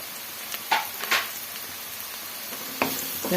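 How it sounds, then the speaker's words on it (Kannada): Spices being stirred into sheep blood fry as it cooks in a pan, giving a soft steady sizzle with a few short scraping stirs of a spoon, close by and without any talk. "ಸೇರಿಸ್ಕೊಂಡು ಚೆನ್ನಾಗಿ ಈ ಥರ ಮಿಕ್ಸ್ ಮಾಡ್ಕೊಬೇಕು"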